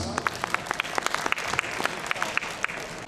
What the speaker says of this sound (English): Let us give a round of applause to our Investment Promotion Officer, Ms. Theresa Sederiosa.